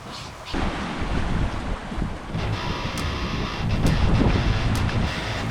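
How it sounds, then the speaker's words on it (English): Steady wind rushes over the open South Pacific aboard a family sailboat under way, a loud buffeting roar against the microphone mixed with wash of waves, continuous throughout. "We finally got some wind back. We're sailing now."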